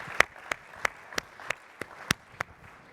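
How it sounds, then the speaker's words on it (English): Sparse, evenly spaced claps, about eight distinct sharp hits at a steady rhythm, from a small group at an airline passenger experience conference session, with low room noise between them. "And a round of applause for Anna."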